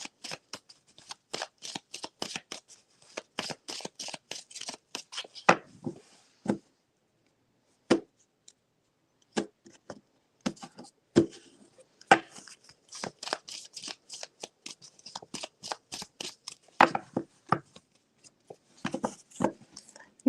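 Tarot cards being shuffled by hand, a rapid run of crisp riffling and slapping bursts that stops briefly midway with a few isolated taps, then resumes, close and fairly quiet with no talking.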